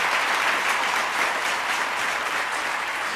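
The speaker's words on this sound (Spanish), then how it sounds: "Dale un aplauso grande al Rey." A church congregation breaks into a big round of applause, dense and steady clapping that stays at full strength for the whole stretch without pause.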